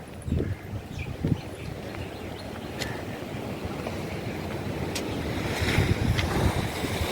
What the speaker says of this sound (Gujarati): દરિયો દરિયો દરિયો જો મોજા કેવા આવે જો પછી સામે દિવાલ રહીને ત્યાં અથડાશે